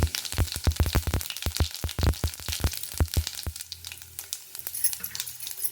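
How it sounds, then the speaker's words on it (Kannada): Mustard seeds and cumin spit and sizzle in hot oil, a dense run of sharp popping crackles that thins out toward the end over a steady frying hiss. "ಇವಾಗ ಸಾಸು ಹಾಕ್ಕೊಳ್ತೀನಿ ಜೀರಿಗೆ ಮಾತ್ರ ಹಾಕೇ ಹಾಕ್ತೀನಿ"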